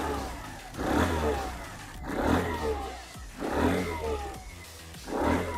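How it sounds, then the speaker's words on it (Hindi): Hero Xoom 110 scooter engine revving in four repeated bursts about a second apart, each swelling and falling back, close and fairly loud with no talk. "Let's hear up the sound. For that we need to crank up the engine."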